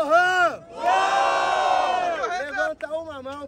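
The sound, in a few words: crowd cheering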